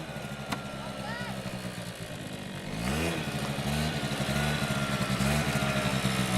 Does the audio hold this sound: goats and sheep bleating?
no